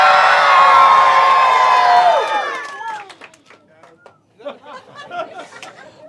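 A group of children at a Scout gathering lets out a loud sustained cheer right after a countdown, then it fades into scattered shouts, claps and chatter.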